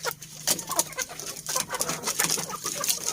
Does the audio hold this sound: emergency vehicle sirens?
no